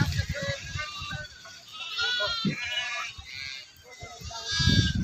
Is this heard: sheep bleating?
yes